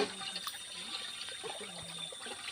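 Tap water running at a village water point in a deep forest area of Maredumilli, a faint steady trickle and splash beneath outdoor background noise.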